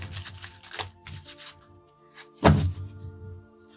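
Tarot cards being shuffled by hand, a few soft riffling bursts and papery taps, then one louder, fuller riffle and thump near the end, close and fairly quiet.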